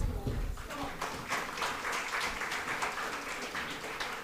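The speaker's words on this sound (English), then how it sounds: "We got to clap, I think now." A crowd applauds at a college event in Mumbai, a dense steady wash of clapping that holds for the whole stretch after a brief burst of low noise at the start, with a voice faintly present underneath.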